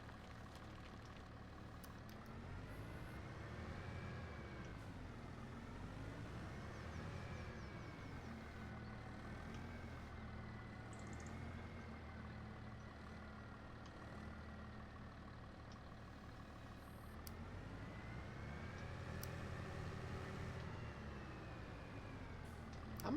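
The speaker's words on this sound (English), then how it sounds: "I hope this tractor can pull this trailer with all this in." In Farming Simulator 25, a tractor pulls a heavily loaded trailer with a steady, low engine drone that rises and falls slightly in pitch under load. It plays continuously and fairly quietly throughout, with no talk.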